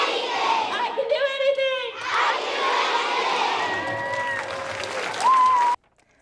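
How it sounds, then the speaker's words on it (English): Students applaud Queen Azalea at a school, their clapping mixed with cheers and shouted voices from the crowd, steady and loud before cutting off abruptly. "Thunderous applause followed the Queen's remarks."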